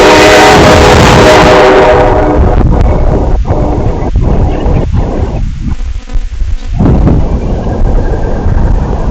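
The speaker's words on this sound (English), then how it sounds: "That's an actual train" A train rolls past close by on the New York Lake Erie railroad with a loud, continuous rumble and wind buffeting the microphone, steady for the whole stretch with a brief dip partway through.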